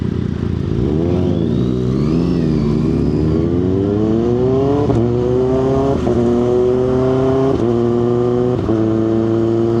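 A 2024 Kawasaki ZX6R motorcycle accelerates hard at close range, its engine note climbing and then dropping with each of several quick upshifts through the higher gears, loud and steady with no talking.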